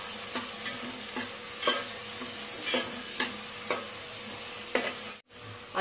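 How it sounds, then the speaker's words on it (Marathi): Finely chopped onions sauté in hot oil for a Kolhapuri chicken curry, with a steady close sizzle broken by repeated scraping stirs every second or so; no voices. "याच्यामध्ये आपण दोन बारीक चिरलेले कांदे आहेत ते घालून घेऊया आणि याला चांगलं गुलाबी होईपर्यंत परतून घ्यायचंय"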